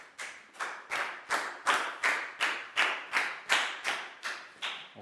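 A classroom claps a round of applause in a slow, evenly timed unison beat, about eleven sharp claps, near and distinct with no voices.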